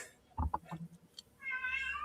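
A cat meows a few times in short close calls, followed by a brighter, more drawn-out meow, with a faint low background hum throughout.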